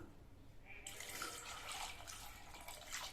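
Water poured from a vessel into a pressure cooker pot holding potatoes and salt for a Tamil potato-pea masala, a steady splashing stream starting after a brief quiet moment and continuing, fairly close.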